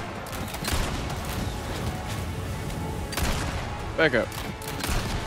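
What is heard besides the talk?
gunfire in the video game Resident Evil 4 Remake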